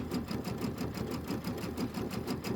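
A sewing machine runs steadily, stitching long border strips on a Halloween-themed pumpkins and potions quilt, its motor hum carrying a fast, even needle rhythm close by, alone and without pause.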